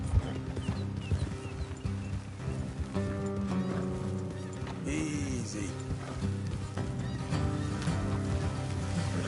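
Several horses clip-clop along a road at a steady gallop in the Red Dead Redemption 2 video game, with hooves pattering continuously, an occasional whinny, and a faint background score underneath.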